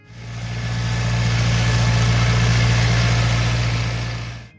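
A John Deere 3020 tractor engine running with a steady low diesel-like drone and a strong constant hum, swelling in and fading out, close and fairly loud with no voices.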